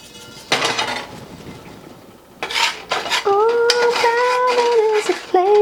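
Cumin seeds toasting in a pan with stirring, giving dry scraping and clinking of utensil against the pan, with a voice humming or singing over the later part.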